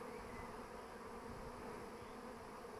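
A bee swarm settled on a tree, giving a dense, continuous buzzing hum that stays even and steady throughout, faint and somewhat distant, with no voices.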